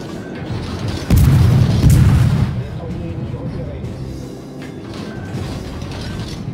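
Main guns of the French destroyer Vauquelin firing in World of Warships, one heavy booming salvo about a second in that rumbles for over a second before fading into ongoing battle noise.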